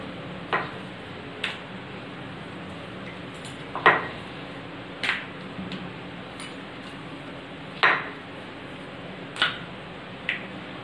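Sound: rolling out parotta dough with a wooden chapati rolling pin

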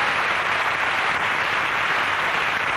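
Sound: TV studio audience applause

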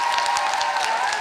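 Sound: applause

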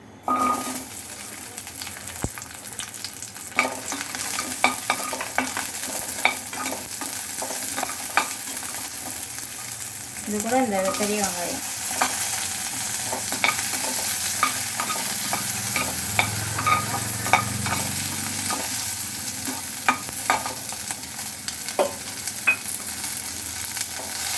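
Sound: sautéing tomato, onion and ginger in a pan

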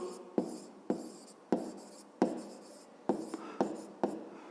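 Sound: writing down a maths solution

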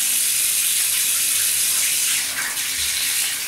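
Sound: water running into a bowl

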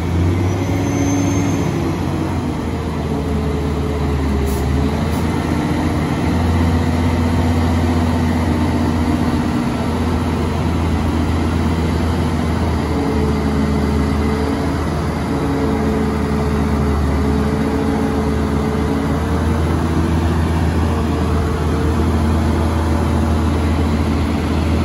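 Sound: logging truck big rig engine idling

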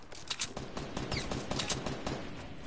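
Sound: gunfire in the video game Fortnite

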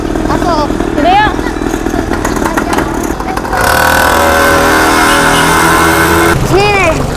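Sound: motorcycle engine started and revving

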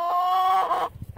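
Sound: chickens clucking in the chicken yard

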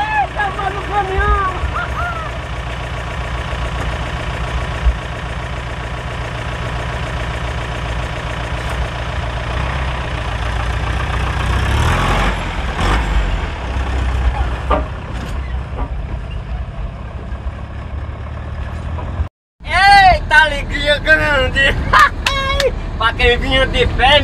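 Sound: truck engine running during ride

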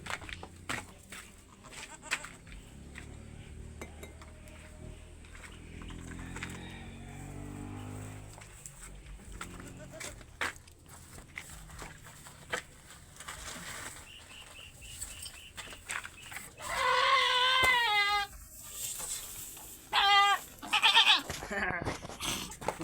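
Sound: goats bleating

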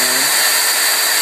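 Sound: drill drilling holes through plastic cups

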